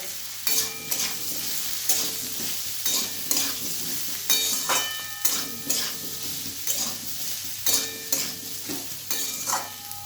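Papaya and chana dal curry with turmeric being stirred in a pan: a continuous frying sizzle with repeated rhythmic scraping strokes of the spoon, close by and without talk.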